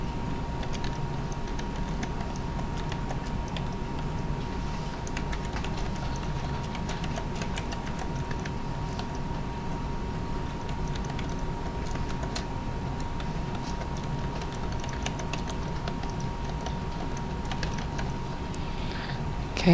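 A definition being typed on a computer keyboard, a steady, rapid stream of light key clicks that runs unbroken for about twenty seconds at an even level, close and alone without speech.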